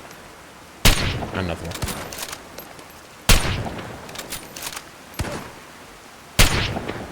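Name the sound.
gunfire in the video game Fallout 4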